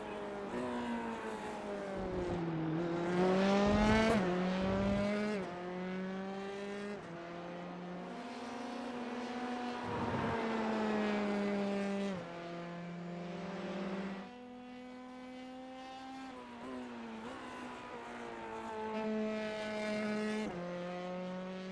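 F3 race cars compete at Circuit of the Americas, their engines whining through rising and falling gear changes as they pass at a moderate distance, with commentary running quietly underneath.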